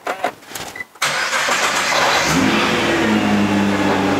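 A Nissan GT-R Nismo fires up close by: a brief starter crank, then the engine catches with a loud flare and settles into a steady, deep idle that rumbles on to the end.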